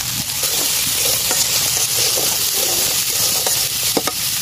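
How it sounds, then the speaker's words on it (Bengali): Continuous loud sizzle of beans frying in a wok, broken by several sharp clinks and scrapes of a utensil stirring. "সিমের বিচিগুলো কড়াইতে দিয়ে দেব।"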